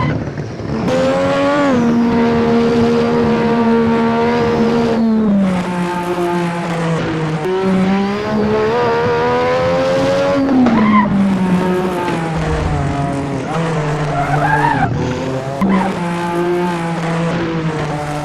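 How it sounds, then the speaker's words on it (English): An F1 race car in a driving game revs loudly through its gears, with rising and falling engine pitch across shifts and bursts of tire skid, continuous and close. "Now for the F1 car."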